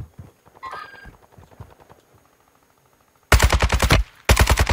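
Gunfire in Warzone 2: after quiet scuffling and faint movement, two loud bursts of rapid automatic fire ring out close by, separated by a short pause.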